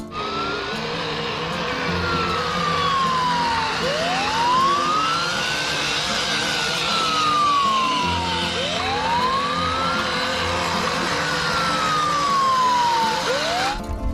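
Toy fire truck siren wailing steadily, rising and falling sweeps repeating for over ten seconds, close and fairly loud with no talk over it.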